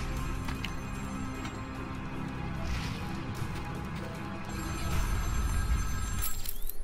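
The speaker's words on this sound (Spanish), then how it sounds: "El teléfono está acá abajo." In the video game Batman: Arkham City, a telephone rings in repeated bell-like bursts, moderately loud, among game noises and a few clanks and thuds, with little or no speech.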